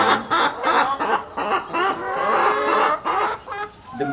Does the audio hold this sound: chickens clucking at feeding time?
yes